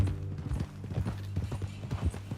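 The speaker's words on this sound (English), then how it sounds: "That new horse?" A horse walks at a steady pace, its hooves clip-clopping in a regular, moderately close rhythm over a low background hum, with no talking over it.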